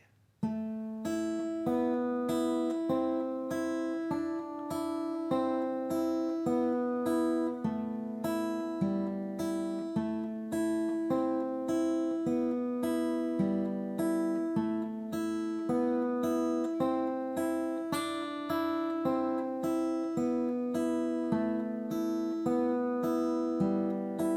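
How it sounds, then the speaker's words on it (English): Guitar plucks a flowing Spanish-style minor-key melody with steady, repeated notes ringing together, continuous and fairly loud with no voices. "Listen to that beautiful sound of all those guitar strings ringing together."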